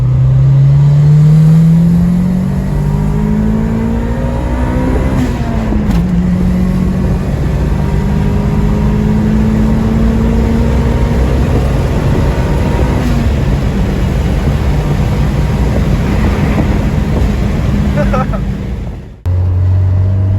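A turbocharged 1999 Honda Civic EM1 fitted with a Greddy turbo kit roars loudly from inside the cabin through a gear pull, engine pitch climbing steadily, dipping at a shift, then rising again before backing off.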